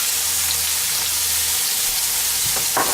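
Garlic sizzles in hot oil with a steady, close frying hiss, and a few faint scrapes or stirring clicks come near the end, with no voices.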